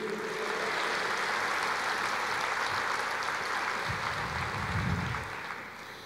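Applause from a church congregation, a steady broadband patter of many hands clapping at moderate distance, fading slightly toward the end.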